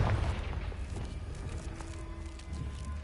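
A Confringo blasting spell detonates in the Hogwarts Legacy video game, a loud booming burst with a deep low rumble that fades into a continuous noisy wash over about three seconds.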